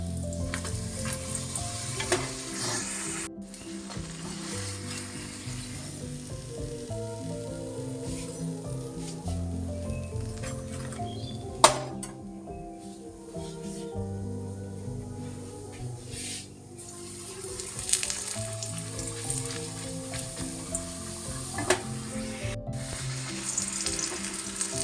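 Luchi deep-fry in hot oil for a school tiffin, a loud continuous crackling sizzle with faint stirring and tool knocks, steady throughout with brief bursts as dough hits the oil.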